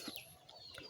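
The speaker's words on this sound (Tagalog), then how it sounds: "So ayan mga manok guys, dami mga manok ng Bisaya" Fighting cocks giving brief, faint clucks and short bird calls, a couple of soft high-pitched notes in a quiet outdoor setting.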